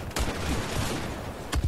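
Battlefield 4 gunfire: a sharp shot cracks near the start and another near the end, with a dense rumble of combat noise in between.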